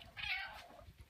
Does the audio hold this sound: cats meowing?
yes